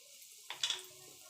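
Asafoetida and black cumin dropped into hot oil for tempering, a brief, faint burst of sizzling and crackling over a quiet background.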